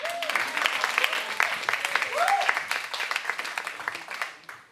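Applause from a theatre audience at a new-works performance night, a dense patter of many hands clapping steadily for a few seconds while voices come through on top, then dying away at the end.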